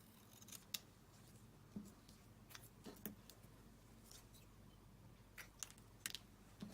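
Scissors snip through paper while cutting out a poinsettia card, producing a series of soft, close, irregular clicks and crunches in an otherwise quiet room.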